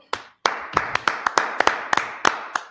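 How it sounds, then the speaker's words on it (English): Hands clap in a steady, slightly uneven rhythm during a religious class, about a dozen sharp close claps over a few seconds with no voices. "Let's clap it up for the Lord."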